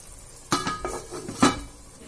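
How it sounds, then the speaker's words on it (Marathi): A lid clanks down onto a cooking pot of wild kanak bamboo vegetable: two distinct metallic clinks about a second apart, close by in a quiet kitchen. "झाकण ठेवून शिजवायची त्याला"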